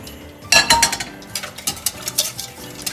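Melted butter is stirred into crepe batter, heard as a close, loud run of clinking whisk strokes against a bowl in a steady rhythm, with no talking.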